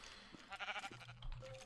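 A sheep in Minecraft bleats once, short and fairly faint, with no talking over it.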